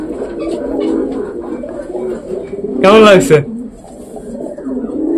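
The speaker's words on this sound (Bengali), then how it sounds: "রেসার ডাকছে এইবার বুনো পায়রাটার পেছনে" A racer pigeon coos in a short, loud, close burst beside a wild pigeon on a rainy morning, with people talking before and after.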